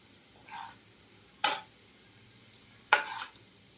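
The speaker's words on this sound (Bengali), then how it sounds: "এটা দিয়ে বেশ খানিক সময় লাল লাল করে ভাজতে হবে।" Spices are stirred in a pan while frying for homemade Szechuan chutney, with quiet sizzling and two sharp clinks of a utensil against the pan, close and alone without speech.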